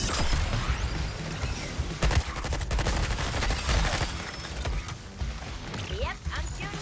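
A gun fires in the Suicide Squad: Kill the Justice League game in rapid rattling bursts and sharp cracks. The shots come over a busy background of clanks and mechanical noise, with a voice talking at times.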